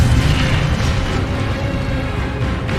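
Incendio fire spell being cast in the video game Hogwarts Legacy, a loud, continuous roaring burst of flame with heavy low rumble and mechanical clatter, sustained throughout with no one talking.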